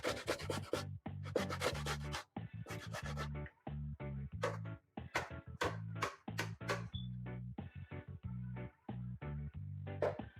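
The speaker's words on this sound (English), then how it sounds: "I'm gonna use this side of the grater to shred the carrot" Carrot shredded on a box grater in a home kitchen, a rapid run of scraping strokes in close, steady bursts with short pauses between.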